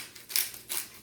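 Peppercorn grinder with mixed white, red and black peppercorns twisted over a pot of potato soup, giving two short gritty bursts of crunching close by with a brief pause between them.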